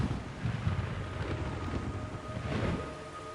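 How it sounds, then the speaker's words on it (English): A downpour of blood falls in the Metal Gear Solid 3 video game, a steady, dense broadband hiss over a low rumbling wash that holds at an even, moderate level throughout, with no voices. "It's raining blood"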